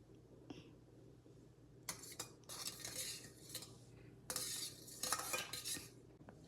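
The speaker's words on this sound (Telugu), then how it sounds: "ఉండలు లేకుండా బీట్ చేస్తాను" A spoon beats curd in a bowl to smooth out lumps, giving quick bursts of scraping and clinking in several short runs over a steady low background hum.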